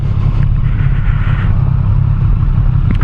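Kawasaki Z1000SX motorcycle engine running close by, a loud, steady low rumble throughout with no talk over it.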